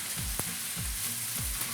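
A potato omelette sizzles in a pan, a soft, steady fry with a few low scraping shakes of the pan at regular intervals, fairly quiet and close, no voices.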